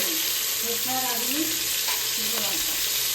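Whole spices such as mustard seed, radhuni and dried red chilli sizzle steadily in hot oil for a Bengali sour tok dish, a close, constant frying hiss with faint clinks and a voice briefly underneath.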